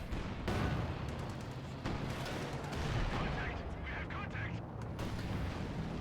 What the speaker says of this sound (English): It's the flaming mortars